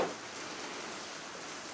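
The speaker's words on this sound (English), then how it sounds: "Now it's raining on them" Rain falling on leaves in a garden, a steady soft hiss of drops, faint and even throughout, with no voices.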